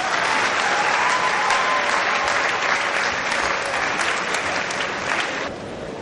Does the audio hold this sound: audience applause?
yes